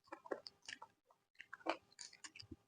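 Someone bites into and chews a samosa in a village eating challenge, with soft moist squishing and crunching bites in uneven bursts, close but quiet, with a short pause midway.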